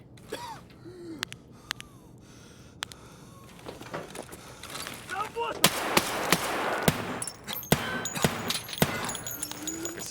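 Weapon fire in a shooter game cracks out as scattered single shots, then a denser burst of rapid gunfire mid-clip with mechanical clicks, fairly close, under brief talk.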